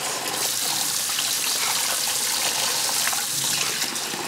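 Running tap water splashes steadily onto a dish being rinsed in a home kitchen, a continuous close hiss and patter with no talk over it.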